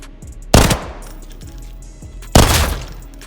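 Two loud, sharp gun bursts in the video game Arena Breakout Infinite, each a short two-round burst, spaced about two seconds apart over a low background hum.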